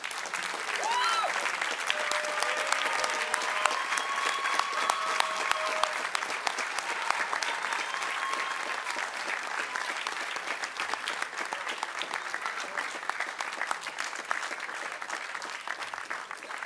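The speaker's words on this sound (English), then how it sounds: "Let's give him a standing ovation." A crowd applauds in a long standing ovation at a post-fight boxing press conference, steady dense clapping sustained for over fifteen seconds, with scattered whistles and cheers and faint voices mixed in.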